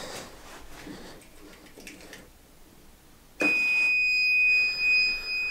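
A cheap one-dollar buzzer from an auto parts store, wired as an oil-pressure warning for a Yanmar engine, suddenly starts a loud, steady, high electronic whine after a few quiet seconds and keeps sounding with slight wavering.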